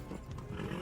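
A horse's hooves clop during a gallop in the video game Kingdom Come Deliverance II, with a quick, low rhythm of beats in one brief, fairly faint burst.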